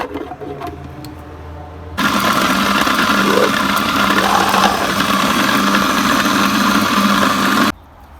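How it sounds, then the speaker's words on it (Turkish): A food processor grinding liver starts abruptly and grinds loudly for about six seconds with a steady whirring roar, then cuts off. "Şimdi sıra ciğerimizi robottan geçirelim."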